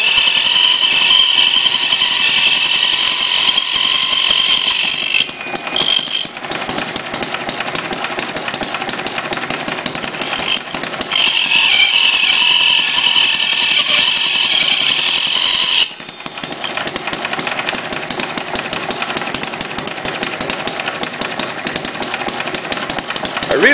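A hit-and-miss engine driving a buzz saw by a belt to cut logs: a loud, rapid, rhythmic engine chug runs throughout, with a high whining saw tone cutting in and out as logs are cut.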